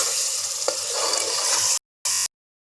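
Beef gosht for Bihari handi sizzles as it is roasted and stirred in a pan, a steady frying hiss with a small clink of utensils, breaking off abruptly and returning in one brief burst before silence.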